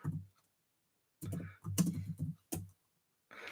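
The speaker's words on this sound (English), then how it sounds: "Why am I typing?" Short bursts of typing on a computer keyboard in a quiet room, a few quick clusters of clicks separated by pauses.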